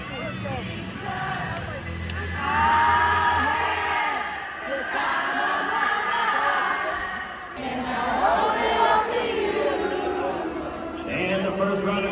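Baseball crowd at a Banana Ball game between the Indianapolis Clowns and the Party Animals, the third-base and left-field side singing together in a sing-off, a loud sustained chorus of many voices with cheers and whoops swelling throughout.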